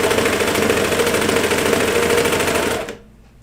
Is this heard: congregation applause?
no